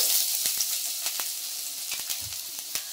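Beans and carrot lightly roasting in a spoonful of oil in a pan, giving a steady soft sizzle with scattered crackling pops, close and moderately quiet, with no talking.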